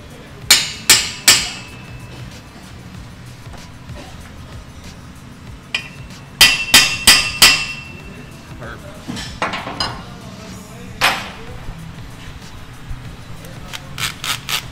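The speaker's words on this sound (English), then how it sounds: "indent with this punch so that the drill bit doesn't slip" Sharp metallic hammer taps on a center punch against an exhaust pipe come in quick bursts of three or four blows, with scattered lighter clinks and taps in between.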